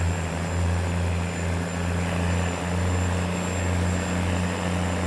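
A large tractor engine in Farming Simulator 19 runs as a steady, loud, low droning rumble with constant humming tones and no change in pitch, heard alone without speech.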